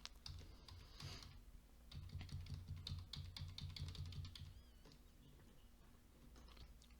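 A computer keyboard pressed for repeated undo commands, a faint quick series of key clicks in short clusters with quiet gaps, low and close.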